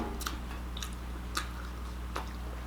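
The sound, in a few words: chewing crispy crunchy pickles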